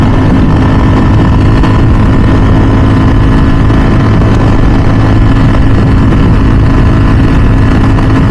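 Ducati V4 SP2 motorcycle engine while riding on a sunny road, a steady loud low drone with wind rush throughout, no voices.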